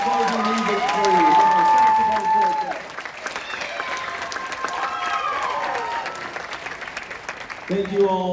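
Applause for a large school jazz band rises around a voice, then continues as looser, lighter clapping from the crowd through the rest of the moment, with some tonal sounds mixed in.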